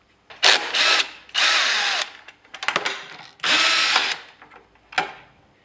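Power tool driving out screws on a Yamaha Tenere 700 motorcycle during a cruise control install, in several loud whirring bursts separated by short pauses and ratcheting clicks, close to the listener.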